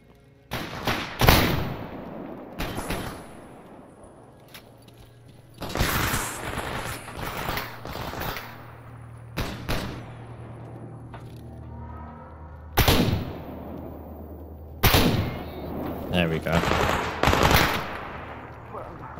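Video game gunfire during a fight with bandits: loud, close bursts of rapid automatic fire and heavy single shots in clustered volleys, separated by brief pauses with lingering echoes.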